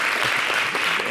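Brisk studio audience applause on a French-language talk show, a short dense burst of clapping from many hands at close range, steady throughout.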